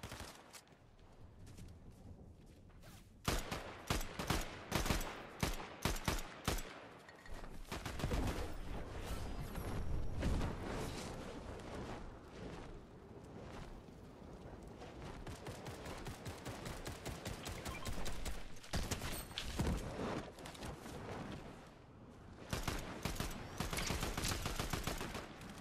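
Rapid video game gunfire, bursts of automatic shots and fusillades crackling continuously for long stretches, loud and dense with brief pauses between volleys.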